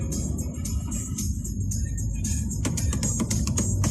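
A V8 car engine roars steadily close by, a deep throaty rumble with repeated bursts as it revs and pulls away, wind noise over it.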